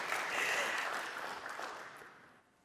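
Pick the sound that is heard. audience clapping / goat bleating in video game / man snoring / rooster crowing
audience clapping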